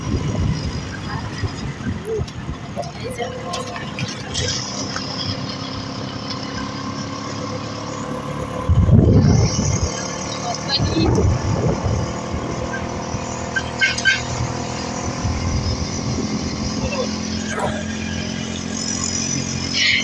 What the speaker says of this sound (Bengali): আর এখন দেখো আমরা এখন যাচ্ছি অটোতে